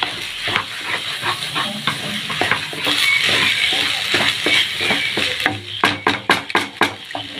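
Cooked pasta is tossed and mixed in a hot pan, a steady sizzle and steam hiss under repeated scraping strokes, ending in a quicker burst of distinct clinking utensil scrapes; no speech.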